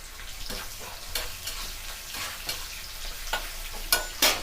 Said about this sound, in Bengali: ঠিক পেঁয়াজটা আমরা হালকা করে লাল করে ভেজে নেব।